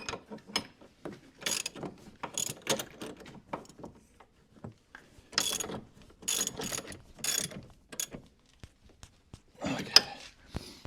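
Ratchet-style clicks from two 15/16 wrenches tightening nuts on a boat sonar mount, coming in short uneven bursts of metallic clatter with pauses between, close and moderately loud, with no voices.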